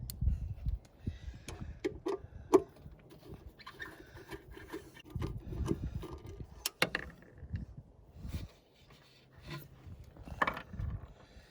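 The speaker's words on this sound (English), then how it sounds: "I have two little bolts to undo, and then that will come off. This takes an 8mm socket." A ratchet with an 8mm socket undoes the small spark-arrestor bolts on a Predator 3500 generator, making quiet clicking and metallic ticks mixed with rubbing and handling noises, close and faint.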